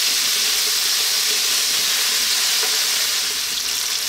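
Potatoes fry in a pan in a curry, hissing and sizzling with a continuous bright crackle. The sound is close and even and runs throughout, with no voices.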